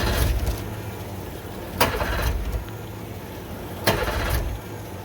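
An old outboard boat engine cranks and tries to start, two sharp bursts of turnover followed by a low uneven rumble, close by with no voices.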